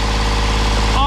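A sailboat's engine runs after an exhaust repair in La Paz, Mexico, giving a loud, steady, low rhythmic throb close by that holds for the whole short moment.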